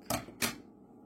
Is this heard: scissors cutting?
yes